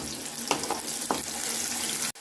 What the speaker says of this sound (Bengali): এবার কেটে রাখা পেঁয়াজ দিয়ে দিলাম